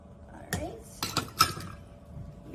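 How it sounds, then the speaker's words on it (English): A spatula scrapes the sides of measuring cups holding yogurt, giving a few short, close scraping and clinking bursts of utensil against cup, with brief quiet gaps between them. "we just scrape the sides of our measuring"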